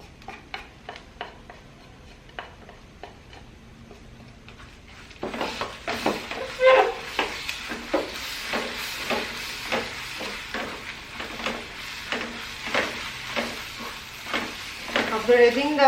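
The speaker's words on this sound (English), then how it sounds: "After adding the dry red chilies, we will fry like 2 minutes." Dry red chilies frying in hot oil for a spicy buff pickle, a steady sizzle with regular scraping stirs of a spoon against the pan, quiet at first then louder and busier once the chilies go in.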